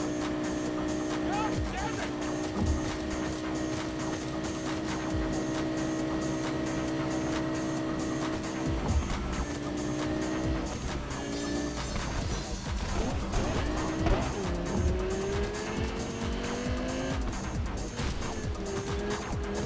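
A car driven hard at high speed in the Cyberpunk 2077 video game, steady engine roar with tire squeal and crash impacts, mixed under continuous game music and voices throughout.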